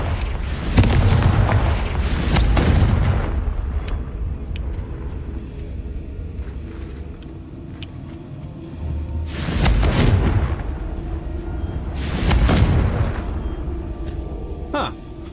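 Fire spell explosions in the Hogwarts Legacy video game, four deep booming blasts with rumbling tails, spaced apart and loud, with quiet game ambience between them.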